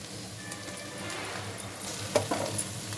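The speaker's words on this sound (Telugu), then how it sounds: "దీంట్లోకి ఆయిల్లో కాసేపు ఒక నిమిషం ఫ్రై అవ్వనివ్వాలి" Egg masala frying in plenty of oil, a soft continuous sizzle with light stirring touches, close but fairly quiet.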